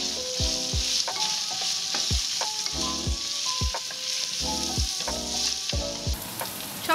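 Pork and Chinese karela sizzle in a hot pan while being stir-fried with dhania powder, a steady hiss broken by repeated scraping and knocking strokes of the utensil against the pan, close up, no voices.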